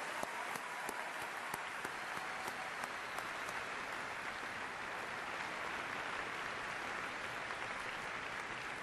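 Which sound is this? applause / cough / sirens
applause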